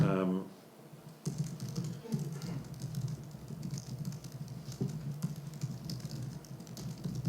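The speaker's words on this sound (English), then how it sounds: "If I just come in here and start typing something in here" Computer keyboard typing, a steady run of quick clicking keystrokes close by, continuing throughout with faint background noise.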